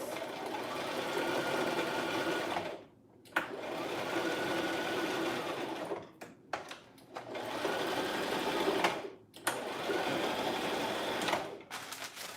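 A sewing machine stitches hair bundles in close, rapid bursts of mechanical whirring, stopping briefly several times before starting up again.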